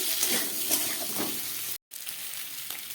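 Previously fried cauliflower florets are added back into a pan of spiced masala and fried again, giving a steady, close crackling sizzle with stirring. The sound drops out for a split second midway.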